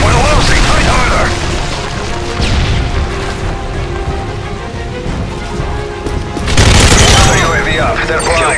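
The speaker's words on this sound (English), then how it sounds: "Predator missile inbound." A Predator missile strike in Modern Warfare 3 lands amid heavy multiplayer gunfire: loud booming crashes at the start and again near the end, with rapid shots and battle noise filling the gap.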